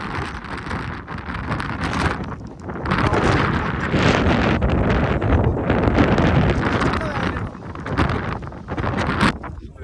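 Strong gusting wind buffets the microphone on a hillside as mist rolls in with light rain, a loud continuous roar that swells and eases over ten seconds, with a few brief voices heard in the background.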